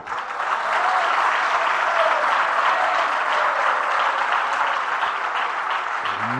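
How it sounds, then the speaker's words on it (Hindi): Loud, sustained applause from a large audience at a Jain sermon, a dense and even wash of clapping that keeps going without a break. "ये तालियां मुझे स्वीकार नहीं"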